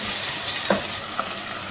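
Boneless mutton with chopped garlic fries in a pot, a brief steady sizzle with a couple of soft stirring scrapes near the middle and no voices.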